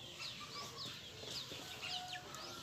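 Young free-range chickens of about 700–800 grams, penned in one half of a partitioned coop, give faint, scattered high peeps and soft clucks over a quiet background.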